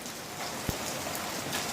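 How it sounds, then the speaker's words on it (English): Heavy rain falling at a home in Pakistan, a faint, even hiss of downpour with one sharp drip or tap standing out briefly. "the rain is running very fastly"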